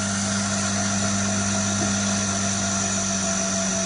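An IBO IVR inverter-driven water pump runs steadily as its valve is closed, a constant motor hum with a sustained high whine, loud and close, with no talk.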